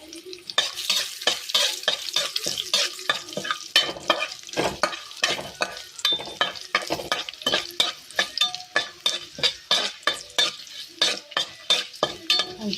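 Urad dal, garlic and dried chilli fry in a pan while a spoon stirs and scrapes briskly, making rapid rhythmic scrapes and clinks over a constant sizzle, close and loud with no voices.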